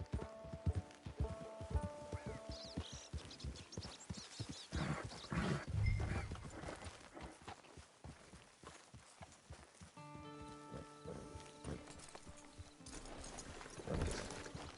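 A horse's hooves clip-clop steadily on hard ground at a walking pace in a video game, surrounded by ambient game music and faint environmental sounds.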